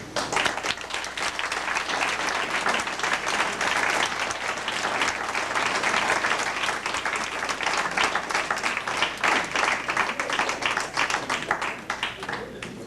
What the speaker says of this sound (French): tu mérites nos applaudissements et nos félicitations